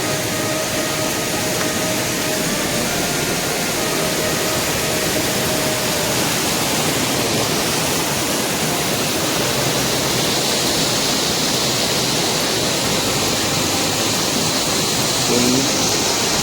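A stream in Konkan flows over rocks, rushing continuously with a steady, broad hiss, loud and close, with no pauses.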